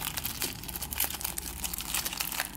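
Pokemon TCG First Impact GX starter deck packaging being opened, a steady run of close crinkling and crumpling plastic with small tearing bursts, no talking.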